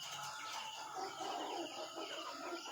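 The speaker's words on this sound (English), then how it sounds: "So I'm not happy all them chickens are in cages unnecessary when they could be out there." Caged chickens in a shop cluck and chirp faintly, with scattered short calls over a quiet, hissy background and no talk.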